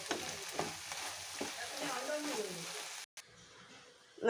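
A spoon stirs an okra stir-fry (vendakka thoran) in a hot pan, giving soft scraping and a quiet sizzle for about three seconds before the sound drops out to near silence.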